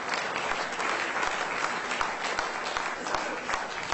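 Sustained, dense applause from an audience at the Business Goa Awards for Corporate Excellence ceremony welcomes a presenter to the stage, with steady clapping throughout and no talk over it.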